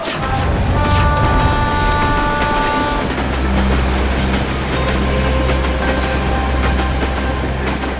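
Train pulling out of a station: loud, steady rumble with a sustained tonal horn-like blare at first, then a deep rolling drone and rising wheel noise as it moves off.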